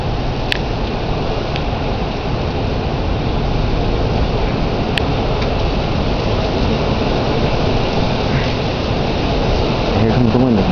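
A heavy thunderstorm in Plainview, Texas, brings a dense, loud, unbroken roar of wind and driving rain that buffets close to the microphone, with a few faint sharp clicks and bumps.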